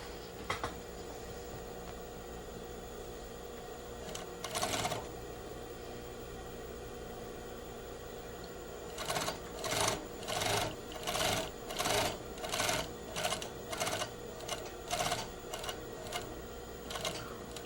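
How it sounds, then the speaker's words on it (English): Sewing machine stitching a zipper fly facing on a garment, running from the garment edge to the facing join: a couple of early whirs, then a run of about ten short, evenly paced stitching bursts, close and clear over a steady background hiss. "We stitch from the edge of the garment to just where the facing joins the garment."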